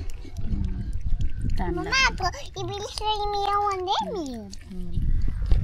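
A cat meows a few times, drawn-out and close, mixed with a voice and other talking nearby.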